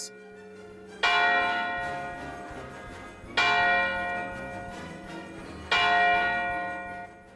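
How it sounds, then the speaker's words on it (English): A deep clock bell striking midnight, three loud strokes about two seconds apart, each ringing out and slowly decaying, alone with no voices. "A clock struck midnight as the elves roared their approval."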